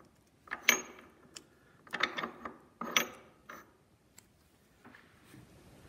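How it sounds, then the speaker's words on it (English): Ford Model A transmission main shaft and its bearing being fitted into the casting, giving a few sharp metallic clicks and knocks in separate bursts, close and fairly quiet, with no talking. "then slide the main shaft into the pilot bearing and the outer race of"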